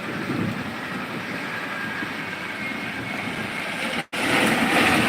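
A bhutbhuti motor van drives past on a rural road during light rain, giving a steady, loud rumbling engine noise with hiss that holds throughout and briefly cuts out near the end.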